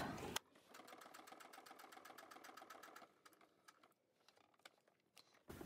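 Sewing machine stitching a wavy line on paper, a rapid run of even needle clicks that slows and stutters into scattered taps before stopping, close and clear with no talk.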